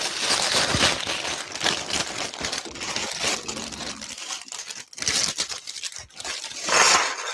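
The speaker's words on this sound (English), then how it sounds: "box smashing." A cardboard box is smashed and rustled up close, giving continuous loud crinkling, tearing and crunching with brief pauses and sharper bursts toward the end.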